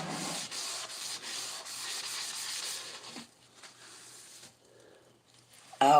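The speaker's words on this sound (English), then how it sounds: "So while I'm scrubbing my counter, I sprayed bleach on this." Scrubbing of a kitchen counter sprayed with bleach: steady close rubbing strokes for about three seconds, then quieter intermittent scraping, ending in a brief louder burst.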